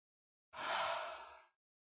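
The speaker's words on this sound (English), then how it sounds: "Once again, inhale and exhale audibly." A single audible breath during a meditation practice, one soft, airy inhale-exhale lasting about a second, quiet and close with no talking.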